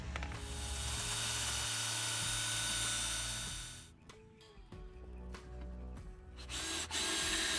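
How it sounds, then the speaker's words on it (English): A power drill whines steadily at close range for several seconds while drilling holes in a Mustang GT's car body near the pinch weld, then winds down, followed by shorter bursts and clanks of tool handling. "So we just gotta drill some holes in the bottom by the pinch weld."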